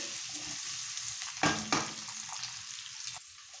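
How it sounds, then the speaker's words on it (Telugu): Eggs frying in a pan for an egg masala, a steady close sizzle with a couple of brief louder crackles or stirring bursts partway through, no voices. "ఒక 5-6 మినిట్స్ బాగా ఫ్రై చేయాలి."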